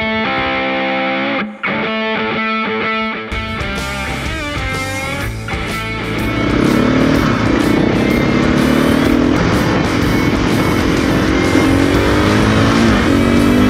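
Motorcycles out riding on a rally-style trip, a loud continuous engine drone with shifting pitch after a short choppy start, close and steady with no talk over it.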